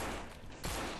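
A brief, dense burst of gunfire from the zombie shooter No More Room In Hell, heard as a loud muffled roar of rapid shots with no speech.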